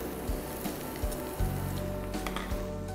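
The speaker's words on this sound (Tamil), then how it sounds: "நம்மளோட வெங்காயம் வந்து இங்கே நல்லா வதங்கிட்டுருக்கு" Onions sizzle steadily in a hot pan while cooking prawn fry, a soft continuous crackle with occasional low thumps from stirring.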